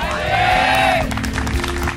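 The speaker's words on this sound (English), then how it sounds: "Oh, we got a cheer coming." A stadium crowd at a 2010 StarCraft 2 GSL Open Season 2 match roars and cheers steadily, with a whistling tone early on and scattered whoops and claps over the dense, sustained noise.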